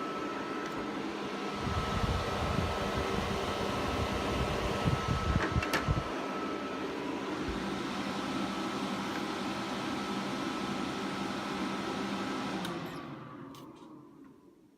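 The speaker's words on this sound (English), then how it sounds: "Even the hard drive fans and optical drive thing are going full." Power Mac G5 cooling fans, including hard drive fans, roar at full speed, a loud steady whoosh with a brief clatter midway, then spin down toward quiet at the end.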